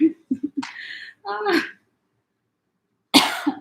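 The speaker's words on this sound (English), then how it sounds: "Okay, just a cough." A nearby cough breaks up short bits of talking, followed by silence and then another brief burst of voice.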